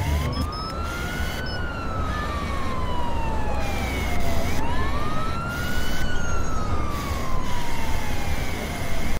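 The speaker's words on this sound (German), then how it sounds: "hört man die Sirenen" Wailing police siren in a comedy horror video game, a loud rising and falling sweep repeating twice over steady background noise, sounding close and continuous.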